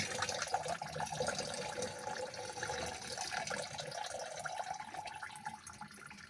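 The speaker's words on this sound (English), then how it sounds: "So you just pour the water inside." Water splashes and trickles steadily into a container, a soft continuous pouring sound at close range with no voices.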